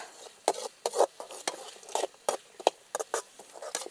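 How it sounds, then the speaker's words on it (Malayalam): Chopped onions, green chillies and curry leaves are stirred in a pan, with a spoon scraping and tapping in quick irregular strokes over a soft background sizzle, close and fairly quiet. "ഉള്ളിയൊക്കെ ഒന്ന് വാടി വയണ്ട് വരട്ടെ അതുവരെ നമുക്ക് ഇളക്കി കൊടുക്കാം"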